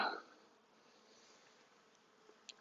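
Bees hum softly and steadily inside an opened beehive during a hive check, a faint, continuous buzz after a brief louder knock at the start, with a couple of small taps near the end.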